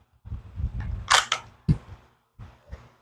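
A Shield Arms magazine drops free from a pistol after its Shield magazine release is pressed, giving a crisp click and a few short knocking clatters close by, with no talking.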